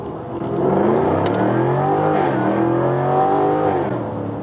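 A 2020 Jaguar F-Type R engine revs up and accelerates close by, its pitch rising and holding in a loud, sustained roar with no talking.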